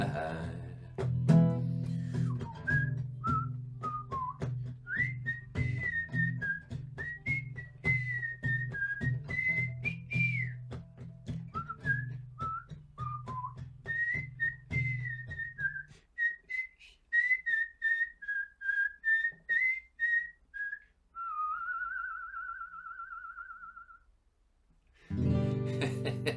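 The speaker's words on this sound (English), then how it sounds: "he always gets me to whistle that bit" Someone whistles a melody, a clear bright tune of sustained and sliding notes, first over a soft backing and then alone, close and fairly loud.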